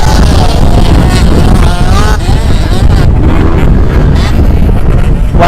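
Motocross dirt bikes race at an outdoor event, including a Yamaha 125 two-stroke, heard as a loud continuous engine roar with rising and falling revving tones, mixed with wind noise on the microphone.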